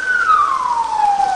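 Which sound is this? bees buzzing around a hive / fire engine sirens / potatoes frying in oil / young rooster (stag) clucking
fire engine sirens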